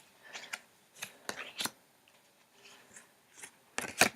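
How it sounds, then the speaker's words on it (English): Tarot cards being shuffled up close, a series of sharp, crisp riffling and slapping bursts in an irregular rhythm, separated by quiet gaps, with no talking. "A few more shuffles and I think we're there."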